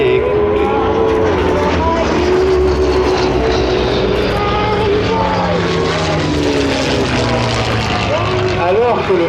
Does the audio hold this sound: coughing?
no